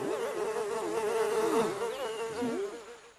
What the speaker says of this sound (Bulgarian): Мухите, трябва да хванем една.